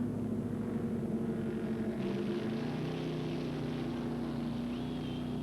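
Steady droning roar of jet boat engines racing on a river, a pitch shift midway as they pass, constant and moderately distant.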